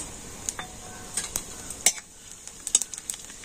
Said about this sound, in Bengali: তো জিরে আর শুকনো লঙ্কাটা একটু লাল করে ভেজে নিচ্ছি।